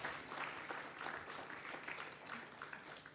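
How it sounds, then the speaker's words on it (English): Audience applause for panelists at a symposium on children's rights legislative reform: steady, dense clapping from a seated crowd, moderately faint and even throughout, with no talk over it. "A big round of applause to our panelists for their interventions."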